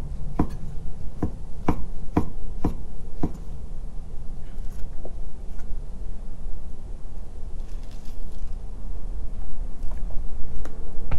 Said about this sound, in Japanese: エリンギも切ります